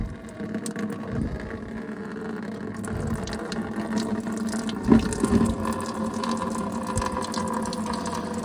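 Coolant drains steadily from a car radiator being emptied during a simple coolant leak repair, a continuous close trickling and splashing with a brief louder gurgle midway, no talking.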